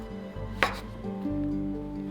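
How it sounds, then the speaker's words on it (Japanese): A single crisp knife cut through tough shiitake mushroom stems onto a cutting board, close and brief, against a quiet, low background hum. "硬い軸は細かくスライスしてください。"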